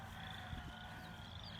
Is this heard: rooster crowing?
no